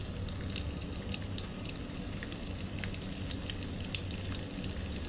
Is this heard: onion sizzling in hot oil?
yes